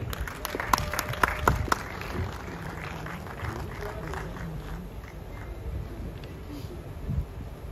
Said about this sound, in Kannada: ರಮೇಶ್ ಸರ್ಗೆ ಬರಲಿ ಜೋರಾದ ಚಪ್ಪಾಳೆ